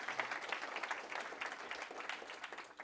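An audience at a development talk applauds in a steady wash of many hands clapping. It is faint and sounds somewhat distant, holding even throughout, with no talk over it.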